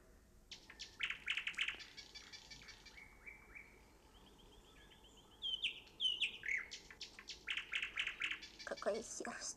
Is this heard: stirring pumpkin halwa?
no